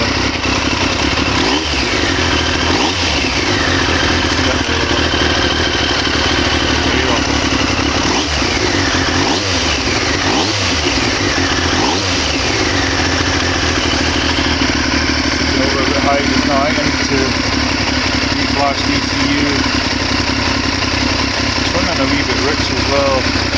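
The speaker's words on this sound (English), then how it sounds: "Just start the bike up." A Triumph Daytona T595 motorcycle engine idles loudly and close, a steady mid-pitched rumble with a few blips of revving, while someone talks over it.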